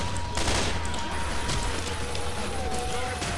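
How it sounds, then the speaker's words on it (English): Gunfire in the Left 4 Dead 2 video game during a Dark Carnival round, with rapid bursts of shots cracking over a busy, constant game background. "Who's shooting me?"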